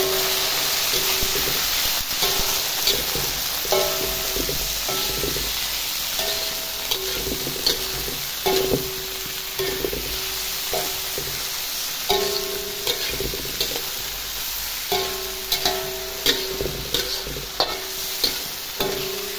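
Green beans sizzle steadily in a hot frying pan for a spicy-sweet stir-fry, with repeated scraping stirs and clatter of a utensil against the pan over a continuous frying hiss, close and fairly loud, no talking.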